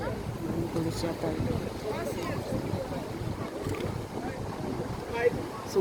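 A constant roar of strong wind and high breaking waves on a beach shoreline in stormy weather, fairly quiet and even, with a faint voice now and then.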